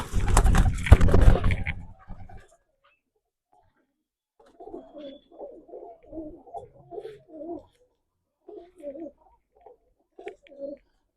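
Malabar pigeons coo in short soft bursts and phrases, with a loud burst of handling or rustling noise first, then a few seconds of near silence before the quiet, nearby cooing resumes intermittently.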